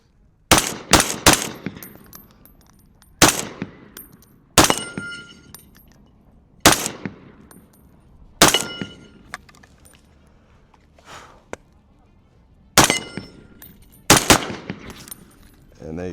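Sharp .308 AR-10 rifle shots fired in darkness, about ten loud cracks in uneven bursts and singles, some in quick doubles, each with a ringing metallic tail and echo fading between shots.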